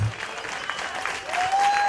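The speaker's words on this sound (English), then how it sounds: "Continue that round of applause for Tim, ladies and gentlemen, before he begins" Wedding reception guests keep up a round of applause, moderately loud clapping that stays even throughout, with a faint tone sliding in near the end.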